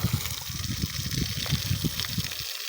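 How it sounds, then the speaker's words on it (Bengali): A battery-powered DC jug pump pushes irrigation water on a farm, giving a steady close gushing rush with a low rhythmic churn underneath that cuts off abruptly at the end. "20 ফিট দূরে পানি চলে যাচ্ছে, পানির কুইক ফোর্স"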